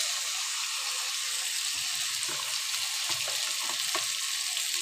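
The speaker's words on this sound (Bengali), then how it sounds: "আমি চিংড়ি মাছ দিয়ে দিচ্ছি এর মধ্যে।" Prawns tip into a sizzling cabbage curry in a pan, giving a steady broadband frying hiss with a few low thuds and stirring clatters scattered through the middle, close and even in level.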